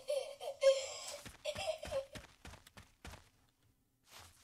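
A creature cries outside an abandoned village in a Japanese horror game, a drawn-out wailing moan that rises and falls in sobbing, almost laughing pulses before dying away into near silence.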